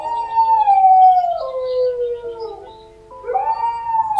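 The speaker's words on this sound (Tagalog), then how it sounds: "Tapos bigla pang nag-alulong ang aso." A dog lets out a long, drawn-out howl that slowly falls in pitch, pauses briefly, then rises into another howl; loud and close, no voices.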